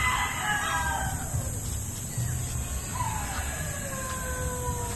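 Two drawn-out rooster crows ring out one after another, the second farther off, over steady outdoor background noise.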